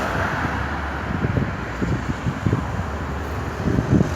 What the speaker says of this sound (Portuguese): Tá vendo o vento? Dá uma olhada no vento.